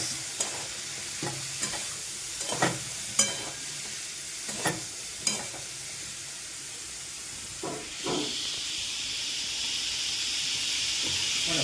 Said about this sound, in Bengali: আর ওইদিকেও চটপট করি একটু তেলে হলুদ দিয়েছিলাম আবার অল্প একটু দিয়ে দিই আর একটু নুন দিয়ে নাড়াচাড়া করি